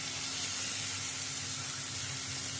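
Baim fish sizzling steadily in hot oil in a pan, a dense, continuous close hiss with no pauses and no voices.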